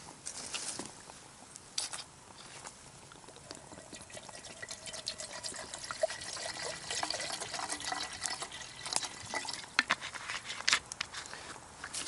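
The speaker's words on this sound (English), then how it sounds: "Just a little touch of water for us to get a brew on." Water is poured into a camping pot set on a Solo Stove outdoors among trees, giving a steady, soft trickling patter that lasts several seconds with small splashes.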